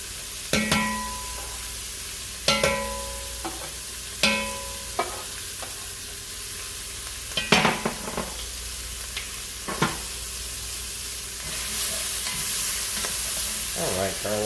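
Carrots and onions sautéing in a pan for a braised pork flatbread, with a steady low sizzle under repeated sharp stirring clatters of a utensil against the pan, close and fairly loud, no talk.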